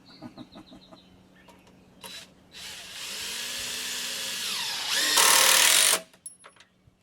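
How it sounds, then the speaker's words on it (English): A power drill drives screws into treated lumber for entry steps: several short whirring bursts, then a long steady drive rising to a louder high-pitched strain before stopping abruptly, close by. "let's drive these other 3 screws"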